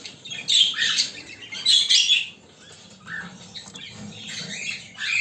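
Young cockatiel chicks raised under budgerigars squawk and chirp from a nest box, harsh raspy calls in bursts with quieter gaps, close and fairly loud.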